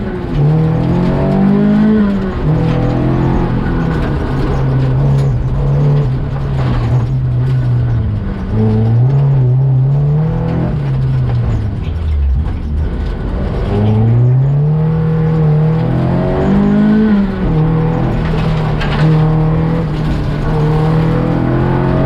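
A car running hard on a track day on cold R7 tires, its engine climbing and dropping steadily through repeated gear changes, loud and close for over twenty seconds with no talk.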